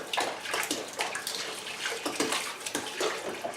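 Dishes washed up in a sink full of water, continuous close splashing and sloshing with rhythmic surges as items are moved through the water, no talk.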